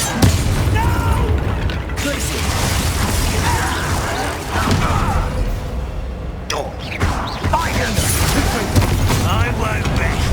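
Confringo blasting spell cast in Hogwarts Legacy, a dense roaring blast and crackling rumble filling the whole stretch, with brief booming bursts and mechanical clatter, and voices speaking over the noise.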